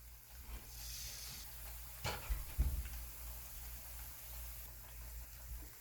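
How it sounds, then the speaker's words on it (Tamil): Jalebi batter frying in hot oil over a medium flame gives a steady, soft sizzling hiss throughout, broken by a couple of brief knocks near the middle. "நம்ம இதை மீடியம் ஃப்ளேமில் ஃப்ரை பண்ணுறதுனால இது ஃப்ரை ஆகிறதுக்கு 2 to 3 மினிட்ஸ் ஆகும்"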